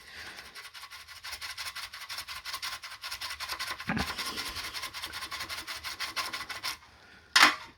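Dirty coins scrubbed in water: a continuous rapid rasping rub, close and moderately loud, with a brief pause near the end before a sharp knock and splash.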